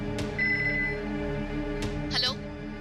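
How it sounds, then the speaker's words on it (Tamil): A telephone ringing for an incoming call in a Tamil TV drama scene, several bright rings sounding under and between voices talking. "டேய் சத்தம் போடாதீங்க, மேடம் ஃபோன் பண்ணுறாங்க."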